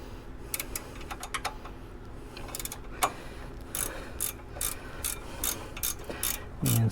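Close, crisp series of metallic ratcheting clicks in uneven bursts as a fitting is tightened with an Allen wrench, ending with a brief louder scrape, no voices.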